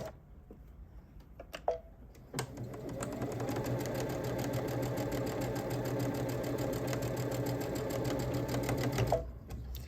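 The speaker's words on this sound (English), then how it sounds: "And then sew right along that edge" A sewing machine stitches a quarter-inch seam along the edge of a quilted Christmas stocking, running steadily and fairly close for about seven seconds after a few soft handling clicks, then stopping.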